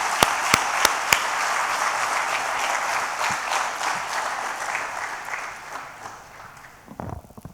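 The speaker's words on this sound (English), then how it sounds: "So I would first like to give a big round of applause to my friend Harsh." Audience at a business conclave giving a big round of applause, dense clapping that swells and gradually tapers off, a few sharp individual claps at the start and clattering sounds at the end.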